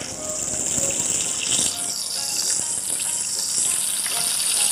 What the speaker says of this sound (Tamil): இப்போ ஒரு பேனில் எண்ணெய் விட்டுக்கலாம்.